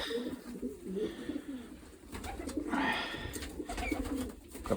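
A male pigeon coos softly and repeatedly at close range, its low, throaty calls rolling on through the few seconds amid faint room noise and scattered chirps from other birds.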